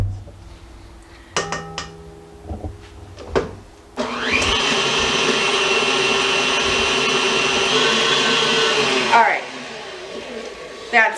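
An electric mixer beats cream cheese filling in a bowl, a loud steady whir running for several seconds after a few scraping clatters, then stopping, with a brief spoken word near the end.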